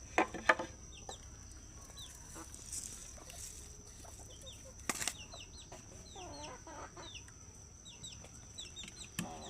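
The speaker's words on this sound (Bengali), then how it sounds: "দেখো আমার কত মুরগি" Chickens cluck in a farmyard, a steady scatter of short calls near and far over faint background noise, with a few louder bursts.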